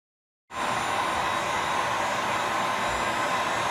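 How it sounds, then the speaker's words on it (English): A heat gun blows steadily to soften a damaged peel-and-stick vinyl floor tile, a continuous loud hiss and whir that starts abruptly and holds even with no speech. "heat the end of the tile with a heating gun, like this"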